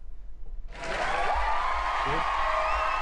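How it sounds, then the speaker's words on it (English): Applause bursts in from near silence and holds steady as a dense, bright wash of clapping through to the end, with faint crowd murmur or cheering mixed underneath. "That way I get applause instead of that's baloney, man."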